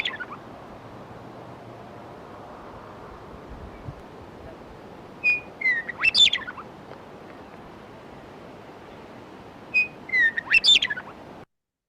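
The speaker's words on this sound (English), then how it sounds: "let us hear the Western meadowlark" A Western meadowlark sings two bright, fluting phrases several seconds apart, clear and fairly close over a quiet background.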